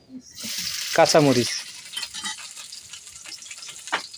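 Oil sizzling steadily in a pan as taro is fried with spices, a continuous hiss with some brief stirring clatter and a short burst of voice early on, moderately close.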